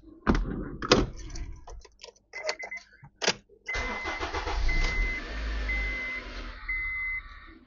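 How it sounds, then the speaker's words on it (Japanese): A few clicks and thumps come first, then the engine of a 2007 Honda Accord Euro R 2.0 with 165,600 km cranks and starts smoothly, settling into a steady idle nearby. "ちょっとエンジンかけてみたいと思います"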